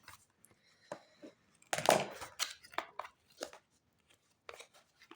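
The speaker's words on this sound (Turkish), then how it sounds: "Şöyle bir bantla kapatılmış. Bandı yırtalım." Packing tape is torn off a sealed cardboard box holding a digital-display thermos, heard as short ripping and crackling bursts with a loud strip-pull in the middle and quiet gaps between.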